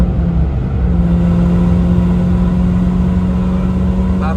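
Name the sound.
Mini car engine revving, exhaust sound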